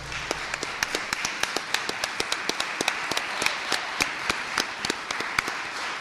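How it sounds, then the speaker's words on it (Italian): Audience applause following a poetry reading at a poetry festival, with many distinct sharp claps in an irregular, lively patter, close and fairly loud, sustained throughout. "Un grande applauso, veramente un grande applauso a Giulia e a Oreste"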